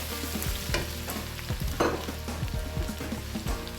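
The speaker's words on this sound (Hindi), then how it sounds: "अदरक लहसुन भुन रहा है।" Ginger and garlic fry in hot oil for lamb keema samosas, giving a soft steady sizzle while a spoon stirs and scrapes the pan in short uneven strokes.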